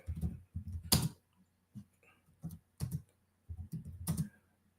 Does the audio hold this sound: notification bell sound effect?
no